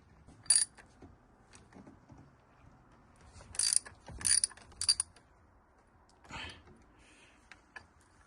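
A ratchet works bolts off the heat exchanger of a Yanmar 3GM30F diesel in a 1987 Hunter 34 sailboat, with short bursts of clicking ratchet strokes separated by quiet pauses, close and crisp.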